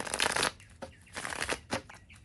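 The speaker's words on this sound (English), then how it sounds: "shuffling the cards" Close shuffling of a deck of tarot-style reading cards, several quick riffling bursts separated by brief pauses, no speech.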